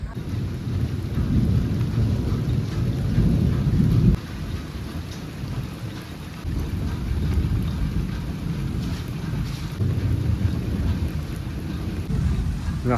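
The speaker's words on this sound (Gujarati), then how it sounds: "અત્યારે વરસાદ આવે છે ફૂલે ફૂલ ઘમ ઘમાટી વરસાદ પડે છે અત્યારમાં છે ને વીજળીના કડાકા થાય છે" Heavy unseasonal rain pours continuously while deep thunder from lightning strikes rumbles underneath in long, swelling waves, loud and close.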